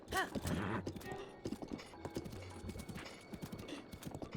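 Horses in the video game Breath of the Wild gallop with rapid hoofbeats and let out a whinny near the start, fairly quiet and continuous.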